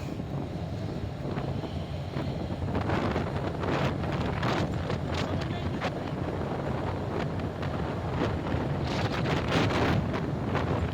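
Wind buffeting across a ship's deck in the Strait of Magellan on a cold day, a loud continuous rumbling roar with gusty swells and rough crackling bursts against the microphone.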